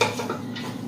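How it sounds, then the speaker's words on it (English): A spoon scraping and clinking against a cooking pan as ingredients are stirred, short close metallic scrapes with no talk. "So we'll stir that around."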